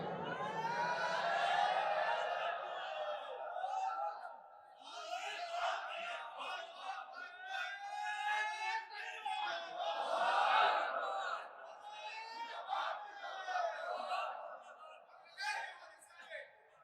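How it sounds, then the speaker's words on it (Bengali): Political rally crowd in Bangladesh chanting slogans to welcome the chief guest, loud massed voices in rhythmic call-and-response bursts that swell and fade, filling the whole space with shouting. "আমরা স্লোগান দিয়ে তাকে বরণ করতে চাই"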